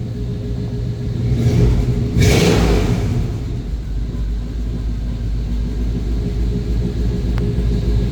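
A 1993 Chevy Blazer engine idling, a steady low rumble heard close by, with a brief swell of louder noise early on and no talking.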